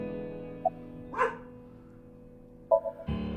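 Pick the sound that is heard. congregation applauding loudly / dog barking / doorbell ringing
dog barking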